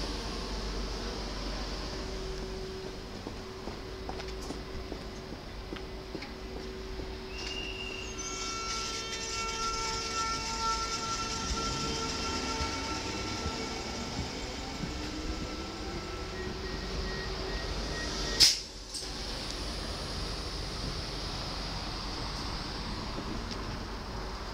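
An SGMm electric multiple-unit train departing Bovenkarspel-Grootebroek station in the Netherlands, a steady rumble with rising motor whine tones, wheel squeal, and a brief loud thump near the end, heard from the platform without talk.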